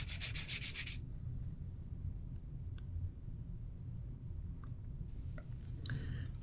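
Sandpaper rubs by hand across pallet wood for a chisel organizer, a soft steady scratchy friction, close but quiet, with a few faint taps and clicks and no talking.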